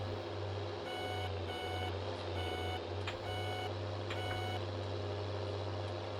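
Repeated bursts of high electronic beeping from a vehicle's turn indicator in Farming Simulator 19, strongly resembling a reversing alarm and sounding above a constant low vehicle engine hum.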